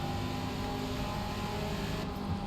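Race car at full throttle in the Forza Motorsport video game, a steady, dense engine roar holding at full power throughout without a break.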